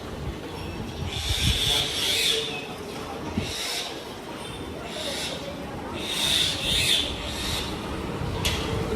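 Morning birdsong outdoors: a flock calling in two bright bursts of chirps, close and fairly loud, over a steady broadband hiss of background noise.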